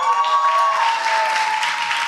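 A crowd at a literary festival gathering applauds loudly and steadily, with a continuous wash of clapping and a faint sustained tone running underneath.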